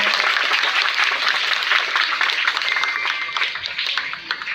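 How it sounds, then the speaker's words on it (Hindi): Thunderous applause rises from a crowd at an honouring ceremony during a market inauguration in a village council area. The clapping is loud, dense and continuous, then eases slightly toward the end. "ये तालियों की गड़गड़ाहट है।"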